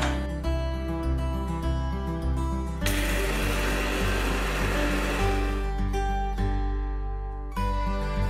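An electric grinder whirs loudly through a spice mix of roasted coriander seeds and mathania chillies, a steady motor drone that surges into a harsher, fuller roar midway before cutting back down.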